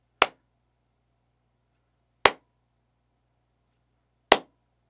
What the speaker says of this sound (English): Let's go ahead and give it a clap.